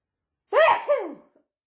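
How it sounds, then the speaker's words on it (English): A single person sneezes once up close, a sharp burst that trails off into a short breathy tail, with quiet before and after. "I got a sneeze coming."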